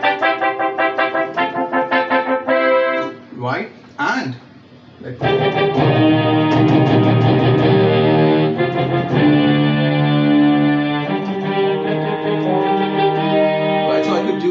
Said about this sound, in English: I could have some other sounds, like I can have brass section